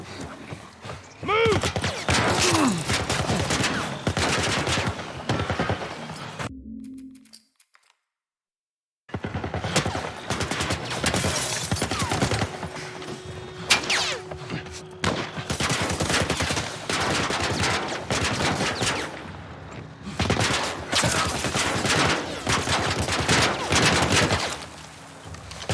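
Sustained weapon fire in The Last of Us Remake, a long run of rapid, dense bursts that stops briefly partway through and then resumes just as heavily, with faint talk underneath.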